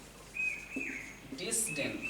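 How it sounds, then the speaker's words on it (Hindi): An Asian koel gives clear, drawn-out whistled calls in the background while someone speaks over them. "चलिए कोयल की आवाज़ आ रही है"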